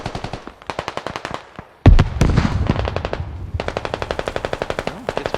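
Automatic weapons fire in the tactical shooter game Squad, with rapid rhythmic bursts of gunshots, a heavy explosive boom near the middle, then a long sustained burst of fire, all loud and close.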